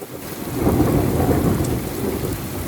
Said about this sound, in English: Thunder and lightning, heavy rain